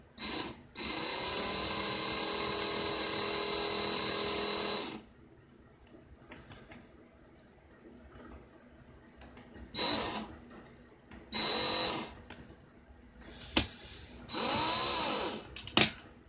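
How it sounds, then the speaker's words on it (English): A power drill twisting round wire for a paracord fuse whirs in several bursts: one long high whine, then shorter runs separated by quiet pauses and a sharp click. "I'm going to slow my drill down a bit"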